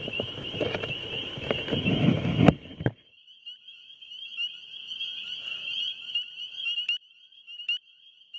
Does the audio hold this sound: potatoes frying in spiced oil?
no